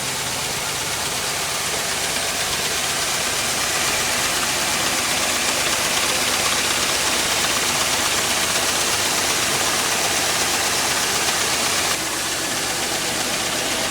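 A Jaguar X-Type engine idles from a fully cold start, producing a steady, smooth, continuous hum with no ticking, heard close and alone without talk for the whole stretch.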